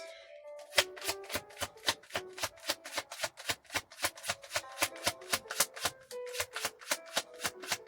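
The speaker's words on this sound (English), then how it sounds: "I'll take one more card from this deck" Cards from an oracle deck are shuffled and drawn in a fast, regular run of about thirty crisp riffling snaps, close and distinct, with no talk over them.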